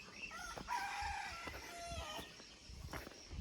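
A rooster crows in a rural Thai village beside a temple, its call carrying moderately from a distance with faint background hum and no talking.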